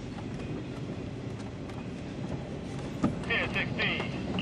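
A CSX freight train passes in the rain, a steady low rumble of rolling cars with scattered rattles and clanks growing slightly louder toward the end, while a radio voice talks faintly beneath.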